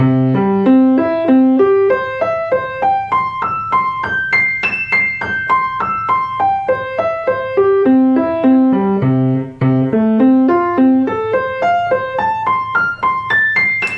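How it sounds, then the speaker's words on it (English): Rapid piano arpeggios sweep up and down the keyboard in a continuous, even stream of notes, loud and close, rising and falling in wide arcs. "he writes a very extended chord over a very large area to be played up and down the piano very fast."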